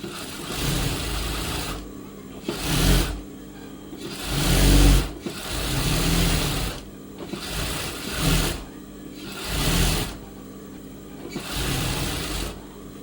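Sewing machine stitching the lining of a blouse, running in repeated bursts of whirring about a second long with short pauses between, close and steady, with no talking.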